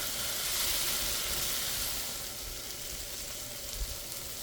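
Onions and mushrooms fry in a pan with a steady, close sizzle and hiss that holds level throughout, with no voices over it.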